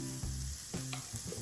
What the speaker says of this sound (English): I think I need to check that zucchini. Sizzle's dying down.